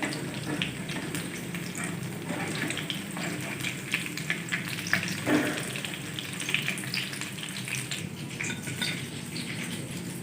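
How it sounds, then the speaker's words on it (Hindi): Potato cutlets (aloo tikki) fry in hot oil with a steady, dense sizzle and crackle that stays fairly loud throughout, with no talking. "अब हम बाकी के फ्राई कर लेंगे।"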